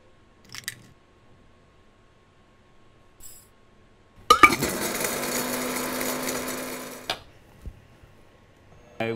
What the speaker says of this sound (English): We're gonna start out with mixing all our wet ingredients